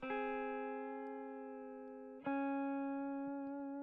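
An electric guitar plays through an amp simulator with a regular cabinet: one sustained, buzzy note that rings out, then a second note struck at about the same pitch that keeps ringing.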